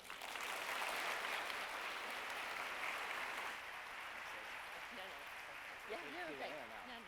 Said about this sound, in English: Another round of applause for Brian.